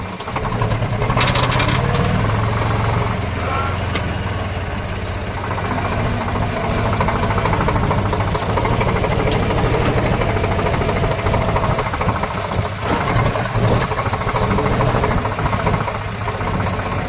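A voice imitates a tractor engine, holding a steady low, chugging rumble that drones on without pause.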